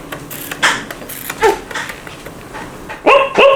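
A man mimics a dog with his voice, giving a few separate yipping barks with pauses between them, the last two sharper and louder, over a faint background hum.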